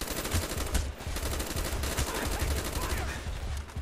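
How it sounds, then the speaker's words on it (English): Dense automatic gunfire in Call of Duty: Black Ops, with RPK and Galil rifles in play, rattling continuously and loud for the whole span with rapid, tightly packed bursts and no pauses. "I know I'm taking fire."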